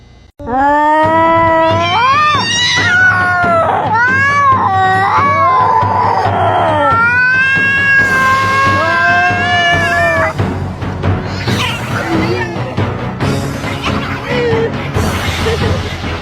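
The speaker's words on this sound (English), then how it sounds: "Cat." A cat meows and yowls loudly up close in a series of drawn-out, rising and falling cries that turn more strained and caterwauling toward the end.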